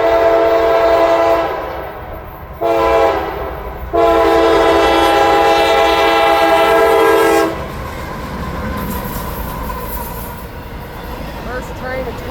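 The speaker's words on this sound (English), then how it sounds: "That's a good sounding horn there." A CSX freight train sounds its horn loud and close in Florence, South Carolina, with two short blasts and then a long sustained one, before the rumble and clatter of rail cars rolling past takes over.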